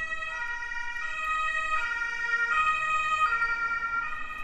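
Emergency vehicle sirens in The Sims wail steadily in a continuous rising and falling tone, fairly quiet and unbroken over a faint background hum.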